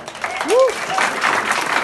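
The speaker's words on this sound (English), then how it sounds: "give another big round of beautiful Mezrab applause" An open mic audience at Mezrab bursts into a short round of applause, with a quick rising whoop over the clapping.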